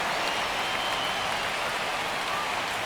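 Steady, dense roar of a stadium crowd in the MLB 25 baseball game during a tense one-run bottom of the ninth, Marlins versus Angels; a continuous broadband wash with no pauses, fairly loud and unbroken throughout.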